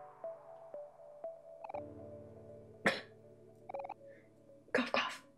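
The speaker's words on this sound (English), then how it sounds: "Cough, cough." Two short coughing bursts from a character in the OMORI video game, the first at mid-clip and a second, rougher one near the end, heard over soft sustained game music with chiming tones.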